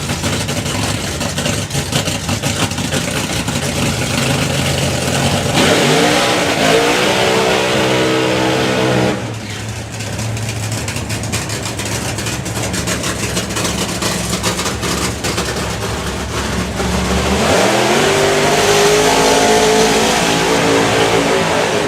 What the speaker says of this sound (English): The Pontiac Trans Am. Look at the flames coming out of the exhaust of the Apache car.